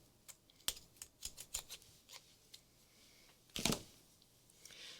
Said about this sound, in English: it takes something that's heavy duty to cut this because it is a wire, so don't use your good scissors